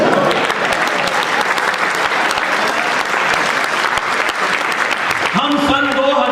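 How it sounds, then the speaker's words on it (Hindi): A large audience at a Hindi poetry recital claps steadily and loudly for several seconds, a thick continuous applause, before a speaker's voice cuts back in at the end. "बात आप तक पहुंचती हो तो एक एक सुधीर श्रोता से तालियां चाहता हूं"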